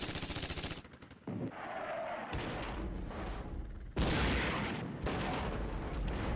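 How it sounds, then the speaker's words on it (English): Artillery barrages pound away in the wargame Flashpoint Campaigns Red Storm, with dense rumbling booms and crackling gunfire that swell and surge in loud waves with no pause. "These guys are going to start catching some artillery."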